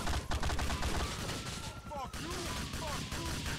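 Faint, rapid bursts of gunfire crackle in the distance amid a busy, noisy GTA IV: The Ballad of Gay Tony game scene, with scattered whooshing and zipping effects.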